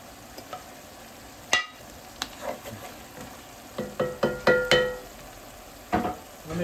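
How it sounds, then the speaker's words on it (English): Salted cod (baccalà) fritter balls fry in hot oil with a steady crackling hiss, broken by a run of sharp pops and spatters that cluster in the second half, close and fairly loud. "They will fry right up and they will work perfect as baccalà fritter balls."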